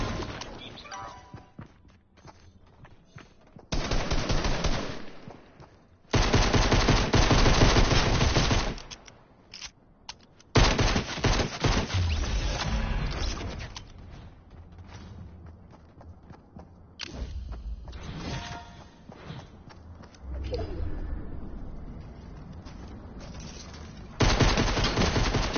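Bursts of rapid gunfire in a video game, loud and close, arriving in several separate volleys with brief gaps between them, no voices.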